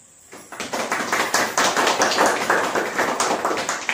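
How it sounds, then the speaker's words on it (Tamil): A group of people at a subscriber celebration claps steadily and close by, in a quick run of dense, even claps lasting a few seconds with no talk. "கிளாப்ஸ் மட்டும் பண்ணிடுவோம்."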